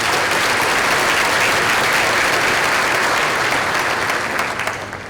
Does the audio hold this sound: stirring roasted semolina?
no